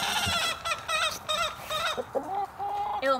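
Chickens cluck and chatter continuously at close range on an off-grid farm, with several overlapping birds making quick, rising calls and a few longer squawks.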